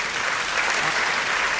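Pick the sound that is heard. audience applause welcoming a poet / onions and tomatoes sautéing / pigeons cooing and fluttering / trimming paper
audience applause welcoming a poet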